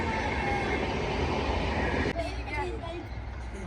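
A train rumbles past with a loud, continuous roar that cuts off abruptly partway through, leaving a fainter rattling rumble.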